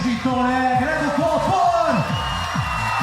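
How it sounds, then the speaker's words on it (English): A spectator crowd at a lead climbing semi-final in Koper cheers loudly and continuously, with whoops, shouts and rising cries of encouragement swelling and falling over about three seconds. "Listen to this crowd as they get behind her."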